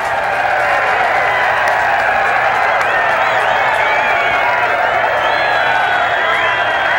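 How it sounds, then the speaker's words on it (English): A large golf crowd at the par-3 16th hole of a PGA Tour event roars and applauds a hole in one, a loud, sustained wall of cheering and clapping with no pauses. "And the crowd here at 16 just explodes."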